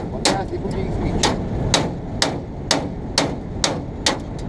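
Hammer blows ring out on farm machinery during a harvest, about nine sharp metallic strikes in a steady rhythm over a low engine rumble, loud and close.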